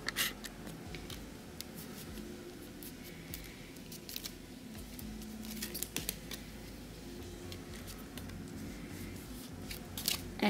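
Scissors trimming and tape being pressed on a handmade record photo album, quiet close snips, crinkles and soft scraping at an uneven pace, no talking.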